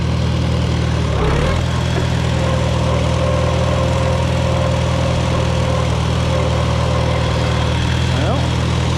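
A Farmall Super A tractor engine runs steadily in third gear. The loud, close, low chugging hum holds constant throughout, and a voice is heard over it.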